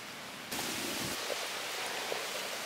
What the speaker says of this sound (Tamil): இந்த மசாலா நல்லா கொதிச்சு வரட்டும்.